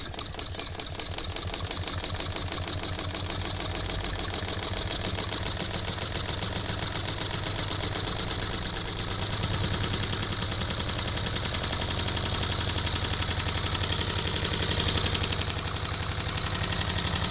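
A model wig-wag V8 oscillating steam engine running on air spins at high speed, giving a rapid, even stream of chattering clicks that holds steady and close with no voices.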